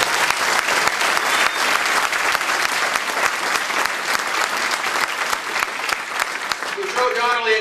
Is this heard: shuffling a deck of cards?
no